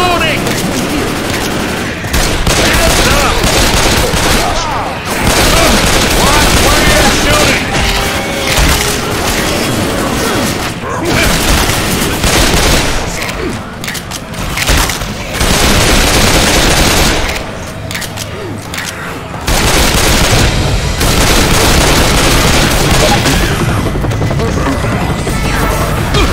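Rifle fire in the zombie shooter Left 4 Dead 2, loud sustained bursts of rapid gunshots and crashing impacts filling most of the stretch, broken by short lulls, with a player's voice faintly under the din.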